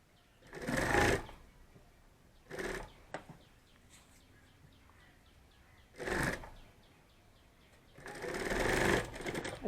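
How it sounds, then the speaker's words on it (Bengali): A sewing machine stitches a bag handle in short bursts of rapid mechanical chattering, four separate runs with quiet pauses between, the last one longer and close by. "আর যে হাতলটা সেলাই করলাম"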